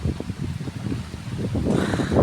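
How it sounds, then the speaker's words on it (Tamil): Strong wind blows around a house, gusting into the microphone with buffeting, rumbling bursts that grow louder and fuller toward the end, with no voices. "இங்கே பாருங்க, காற்று எவ்வளோ அருமையாக அடிச்சுக்கிட்டு இருக்கு."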